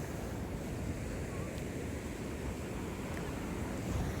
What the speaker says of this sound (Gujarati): અમે દરિયાકાંઠે આવ્યા છીએ